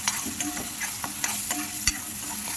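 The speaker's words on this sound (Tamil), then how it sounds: "விழுதை ஆட் பண்ணியாச்சு கொஞ்சம் வதக்கி விட்டுப்போம்" Wet spinach paste frying and sizzling in a pan while being stirred, with occasional scraping clicks of a spoon, steady and close.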